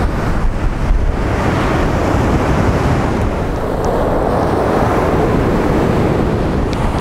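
Strong storm waves crash on Krynica beach while wind buffets the microphone, a loud, continuous roar of surf and gusts with no talking.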